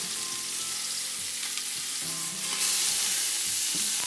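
Steak searing in an Instant Pot pressure cooker, a steady close sizzle and crackle of frying meat holding throughout with a few soft clinks, no voices.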